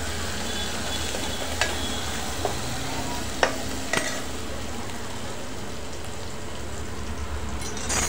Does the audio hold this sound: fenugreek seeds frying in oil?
yes